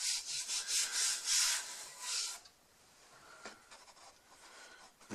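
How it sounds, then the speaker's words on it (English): A Bosch 1250 DEVS random orbit sander works over wood to remove coarse saw marks, giving a loud, steady high whir and rubbing for about two seconds before dropping to a faint, intermittent scratching. "It took the saw marks off pretty well."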